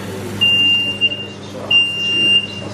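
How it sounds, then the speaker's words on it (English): A smoke alarm goes off while burgers are cooking, giving two long, steady, high-pitched beeps separated by a short gap, with faint room noise underneath. "I'm making some burgers and the alarm went off."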